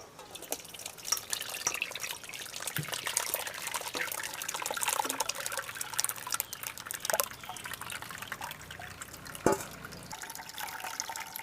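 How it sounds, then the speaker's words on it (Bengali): Bael fruit juice being strained, a continuous trickle and drip of liquid with scattered small splashes and clicks, steady and close throughout. "এবার আমি ছেঁকে নেব এটা।"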